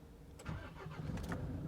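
A 2016 Nissan Navara with an engine management light on is started, giving a quiet cranking burst that settles into a steady low idle, heard at a distance with no talking.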